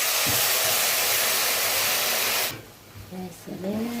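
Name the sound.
pouring boiling water into pot of Egyptian koshari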